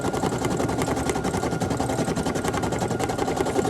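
A Brother PE800 embroidery machine stitching a design onto a hat hums and chatters in a steady, fast, close mechanical rhythm without pause.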